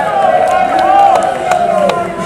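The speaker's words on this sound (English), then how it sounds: "The crowd definitely behind James Grimm" Wrestling-show crowd at an indoor club event, a continuous loud roar of cheering and shouting voices filling the room, with a few sharper shouts rising above the din.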